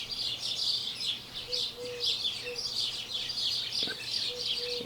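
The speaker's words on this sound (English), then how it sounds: "Man, what a commotion, birds." Several birds chirp and tweet loudly and continuously in a backyard, their bright, busy calls overlapping close by, with a low steady hum underneath.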